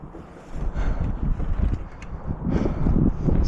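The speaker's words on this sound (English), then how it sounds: "It's a little breezy up here." Strong wind gusting across an exposed ridge on Blue Mountain near Bake Oven Knob along the Appalachian Trail, a loud continuous low roar buffeting the microphone that swells and builds toward the end, with no talking.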